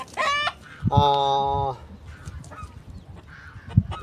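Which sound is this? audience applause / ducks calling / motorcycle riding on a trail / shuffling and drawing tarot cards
ducks calling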